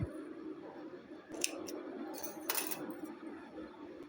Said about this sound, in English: I will tie these two threads together and cut off any extra thread.